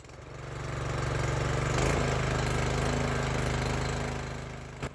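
A small garden tiller engine runs steadily after a pull start, a loud, close, chugging putter that swells and eases slightly, with a brief click near the end.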